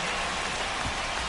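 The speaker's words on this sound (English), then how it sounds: "It's coming down pretty good. Yeah, it is, and it's not too bad yet" Heavy rain falling steadily on a baseball field, a dense, even hiss of close downpour with no pauses and no voices.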